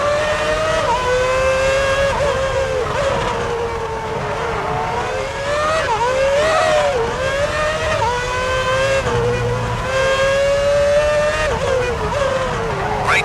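A Ferrari Formula One car screams around the Indianapolis circuit in a racing video game, its high engine note rising and falling through gear changes, with race commentary running over it.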